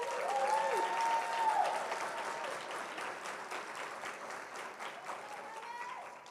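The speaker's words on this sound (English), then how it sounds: "please give our 2023 graduates one more round of applause." Steady audience applause for 2023 graduates at a Kente donning ceremony, even and continuous from a large crowd, with a brief high cheer near the start.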